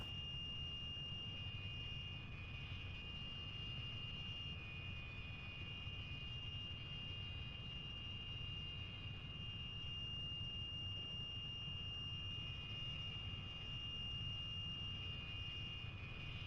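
A Spitfire's piston engine in the DCS flight simulator drones steadily as the throttle is advanced, a continuous low propeller rumble with a thin high whine held over it, without talk.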